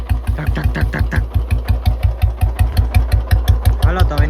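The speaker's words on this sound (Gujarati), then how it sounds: "આપણી બુલેટનો ખાલી અવાજ જો અવાજ મજા આવે ને સાંભળવાની" A Bullet motorcycle engine idles close by with its deep, evenly spaced thumping beat, steady and loud, each pulse crisp and regular for the whole stretch.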